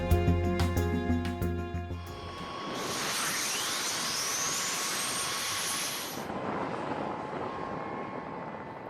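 Large US Air Force aircraft running a jet engine test, a loud steady roar with a rising whine climbing in pitch midway, then settling to a broad continuous rush with no talk.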